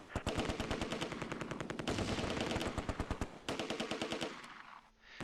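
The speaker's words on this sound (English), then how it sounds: "They're still shooting." Rapid, sustained machine-gun fire from soldiers in the war strategy game Close Combat II, set on an Arnhem tree road: loud, evenly spaced bursts rattle almost without a break before tapering off near the end.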